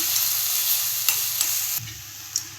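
Chili powder, coriander-cumin and garam masala being mixed into bread pakora filling, heard as soft stirring and scraping with a light sizzle, a couple of sharper clicks of the utensil near the pan.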